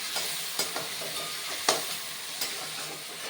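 Onion and tomato cooking with salt in a pan give off a steady soft sizzle, broken by a few sharp scrapes and taps of a spoon being stirred, close by and without speech.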